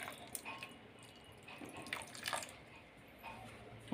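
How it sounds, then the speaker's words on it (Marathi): Cold water is poured over boiled spinach in a pot, giving a faint, uneven splashing and trickling that swells and fades over a few seconds. "आता याच्यावरती मी गार पाणी घालते"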